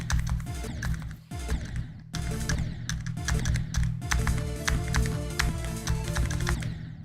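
Rapid, busy clicking and tapping on a computer mouse and keyboard during gameplay, dense and close, with brief pauses between bursts and some talk underneath.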